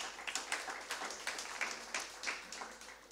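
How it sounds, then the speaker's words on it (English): An audience at a civil society organizations forum gives a round of applause. It is a fairly quiet, moderate patter of clapping with individual claps standing out in an uneven rhythm. "Let's give her a round of applause, please."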